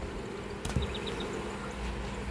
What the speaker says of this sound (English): The bee buzzed a wild pig.